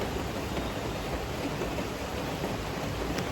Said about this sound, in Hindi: मस्त बारिश चल रही है यार